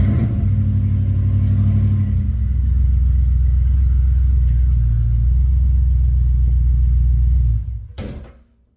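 A Yamaha Royal Star motorcycle, restarted after two years of sitting, rumbles loudly and unevenly at close range with a deep engine throb, then abruptly dies and falls quiet.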